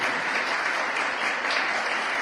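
A church congregation applauds during a sermon: a full, continuous wash of many hands clapping together, steady and fairly loud from start to finish.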